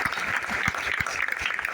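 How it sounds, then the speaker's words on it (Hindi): An audience at a business plan introduction event applauds loudly and steadily for the whole moment, with a few heavier claps standing out from the continuous patter. "तो उनको जरा जोरदार ताली दीजिए।"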